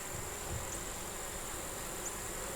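Honeybees hum steadily around a frame of capped brood pulled from a hive, a soft, even insect drone with no pauses, faint and close.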